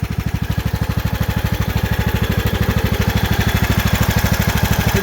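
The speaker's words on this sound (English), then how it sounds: "The engine sounds really quiet now." Riding lawn mower engine idling after a head gasket replacement and valve adjustment, a steady, even putter of rapid firing pulses running close and continuous.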